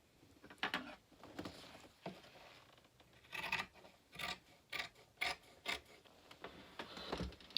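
Scissors cutting straight down through fabric, a series of faint, crisp snipping and rasping strokes in an irregular rhythm, close and quiet with no talk.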